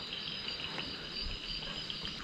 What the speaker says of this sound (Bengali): একদম শান্ত, শুধুমাত্র ঝিঝি পোকার ডাক ছাড়া আর কিচ্ছু শোনা যাচ্ছে না।